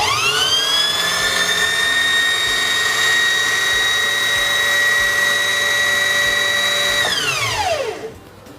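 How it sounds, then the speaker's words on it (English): A SINGER Heavy Duty 4411 sewing machine winds a bobbin with a loud, steady high-pitched motor whine that holds for about seven seconds, then spins down and stops abruptly. "continue winding until the bobbin is full or until you have enough thread on the bobbin"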